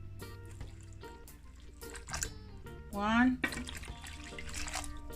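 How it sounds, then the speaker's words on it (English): Water is poured into a cooking pot for Jamaican turned cornmeal, a splashing gush that swells midway, with a person talking over it. "I'm gonna go in with about 2 cups of water"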